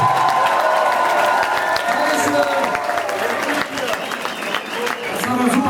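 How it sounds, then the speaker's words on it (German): Crowd at a rap night in a club venue claps and cheers for an opening rapper's first show, a loud, continuous mix of applause and scattered shouts with some voices mixed in. "also bitte einen kleinen Applaus für meinen Kollegen leisten"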